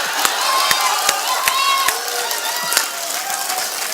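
An audience at an All India Mushaira poetry recital in Chakrapanpur fills the air with crowd noise, punctuated by sharp, fairly regular claps of rhythmic applause.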